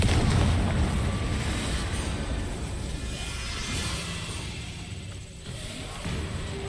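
Confringo blasting spell going off in Hogwarts Legacy, a loud rolling explosion roar that starts heavy and stays dense for several seconds with no speech over it.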